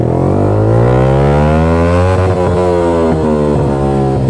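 Yamaha R15 V3 motorcycle with a loud SC Project exhaust revs hard out in the city, its pitch climbing steadily and then dropping with sharp blips and crackles, very loud and close.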